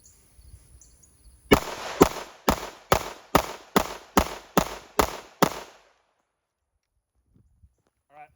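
A pistol fires about nine sharp 147 grain rounds in a quick, steady string, each shot loud and close with a brief ring-out, followed by near silence and a faint murmur of voices.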